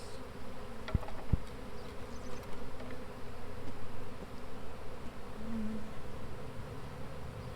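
Honey bees buzz steadily in a swarm trap hive, a dense continuous hum filling the whole stretch, with a couple of sharp clicks near the start.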